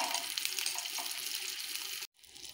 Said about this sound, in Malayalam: പച്ചമുളക് ഇട്ട് അത് ചെറുതായിട്ടൊന്ന് വഴറ്റിയെടുക്കുക.